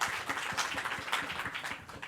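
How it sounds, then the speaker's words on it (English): Faint audience applause from a telecom pitch event: soft, scattered clapping heard at a distance for about two seconds. "So please, if you can give her a round of applause."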